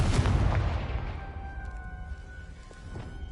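A Confringo blasting spell from a sorcery video game bursts in a loud, close explosion with a deep rumbling boom that slowly fades into a lingering echo.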